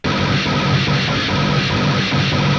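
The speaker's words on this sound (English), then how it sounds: "Another thing that you could do with this synth that mirrors the guitar, you could try using an amp sim" Metal synth patch pushed through a guitar amp simulator, a dense, heavily distorted wall of sustained tone that stays loud and unbroken for a few seconds, with no talking.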